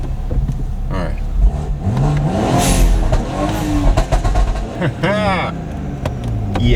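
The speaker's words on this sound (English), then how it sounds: "I'm gonna close the pipes for this one and just floor it in neutral." A BMW B58 engine fitted with a front mount intake revs hard in neutral with the exhaust pipes closed, rising and falling in loud repeated pulls close by, with people talking over it.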